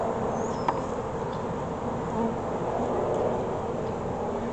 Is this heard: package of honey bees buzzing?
yes